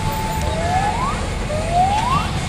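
Ambulance siren wailing in Buenos Aires traffic, two rising sweeps heard at moderate distance over a constant low traffic rumble.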